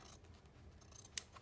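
Quiet snipping of scissors against a soft background hush, with one sharp, bright cut standing out near the end.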